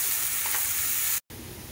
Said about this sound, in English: It's just sizzling away.